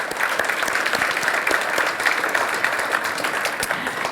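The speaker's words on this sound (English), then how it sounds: "a big round of applause for today's sponsors." Audience applause at a South Jersey charity program thanking the day's sponsors, a steady dense wash of many hands clapping at close range, sustained evenly for the whole stretch with no voices over it.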